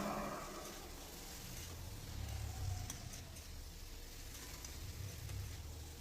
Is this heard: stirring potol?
yes